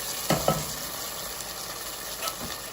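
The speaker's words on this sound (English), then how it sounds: "So now we'll go ahead and add our maters." Canned fire-roasted tomatoes splash into a pan of sizzling, translucent vegetables, with two quick close pours over a steady frying hiss that keeps going underneath.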